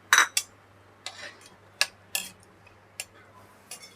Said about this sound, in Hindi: हमने किशमिश भी भूननी है।